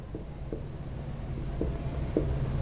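Marker or chalk writing the word accuracy on a classroom board, a few short squeaky strokes over a low steady room hum.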